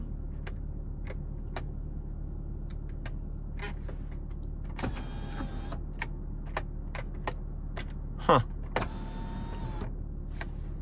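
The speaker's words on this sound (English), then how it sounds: "with the sunroof, you can either tilt or slide it" The sunroof motor in a 2025 Toyota Highlander Hybrid XLE AWD runs in short whirring bursts as the roof tilts and slides, interspersed with clicks of switches, over a quiet cabin hum.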